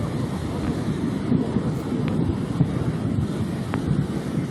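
Floodwater from heavy rain surges under a roadside culvert, a loud, steady broadband roar of rushing water with no letup and no voices.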